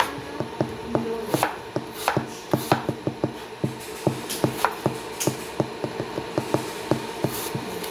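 Knife strikes on a cutting board as food is sliced at home, a steady run of crisp close taps at a brisk, fairly even rhythm with faint background noise.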